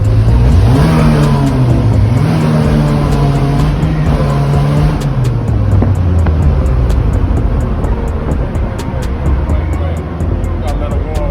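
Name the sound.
Slingshot three-wheelers revving engines while warming up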